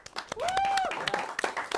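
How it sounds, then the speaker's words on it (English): Studio audience at a comedy show gives a brief burst of applause for guests, with a thin whistle-like tone rising above the claps. "Round of applause for our guests."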